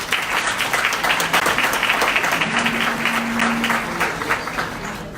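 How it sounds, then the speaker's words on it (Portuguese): Warm, loud applause from the audience at a legal seminar on condominium fee enforcement, a dense continuous clatter of many hands that holds steady for several seconds before easing slightly at the end. "eu consigo nossos calorosos e agradecidos aplausos"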